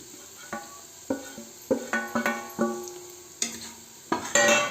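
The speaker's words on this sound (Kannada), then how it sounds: "ಇದನ್ನು ಸ್ವಲ್ಪ ಫ್ರೈ ಮಾಡೋಣ" Whole mixed masala with cinnamon and cloves being stirred in a hot pan, a series of sharp metallic spatula scrapes and taps over a faint sizzle, close and clear, with no talking.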